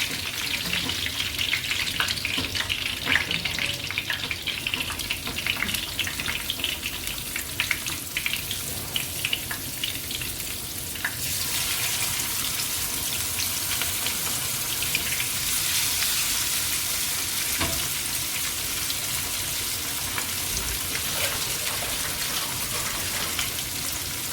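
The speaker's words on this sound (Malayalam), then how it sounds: "ഇത് അതിൽ നമുക്ക് മീൻ ഓരോന്നോരോന്നായിട്ട് അടുക്കി വെച്ച് കൊടുക്കാം" Continuous crackling and sizzling of fish frying in hot coconut oil, loud and close, growing hissier partway through with occasional pops.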